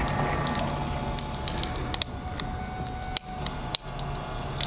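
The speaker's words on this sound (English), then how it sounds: "I hear the motor struggling." A struggling electric motor in a Chinese-made DIY portable shower pump, sounding as a steady close mechanical whir with a faint hum, interrupted by a few brief sharp clicks and dropouts.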